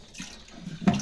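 A small submersible bucket pump inside a drum pushes water out through a tube for a water purifier setup, giving a brief, faint trickle that ends in a short gush.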